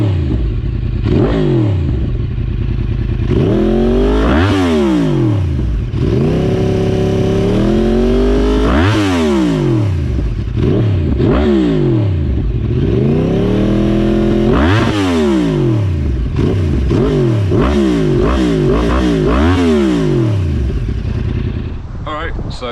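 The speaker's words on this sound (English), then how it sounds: "So that's what the Two Brothers exhaust sounds like." A 2010 Yamaha R1 motorcycle fitted with a Two Brothers exhaust revving hard and close, with repeated rising and falling throttle blips, sharp climbs to high revs and loud, raspy bursts between idle dips.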